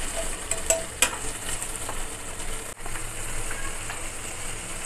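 Onions, tomatoes and green chillies fry in a pan with a steady hiss, along with a few brief clinks and stirring scrapes near the start. The frying noise stays fairly even throughout.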